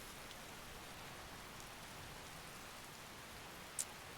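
Pouring rain in the video game Skyrim, outdoors near Falkreath, hisses steadily and evenly as a soft, constant wash with one brief tick near the end.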